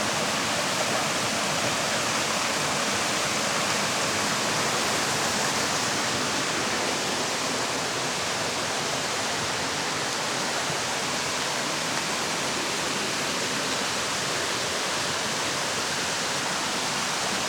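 A stream rushes along the Appalachian Trail in a dense, steady wash of flowing water, close and loud with no break.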